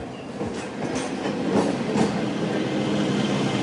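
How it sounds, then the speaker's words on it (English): A running train is played as a sound effect in a stage drama, a steady loud rumble with clickety-clack wheel rhythm throughout, heard alone without talk. "Looks like the train is running on time."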